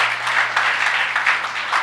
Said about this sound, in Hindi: क्यों ना जोर से प्रभु के लिए ताली बजाए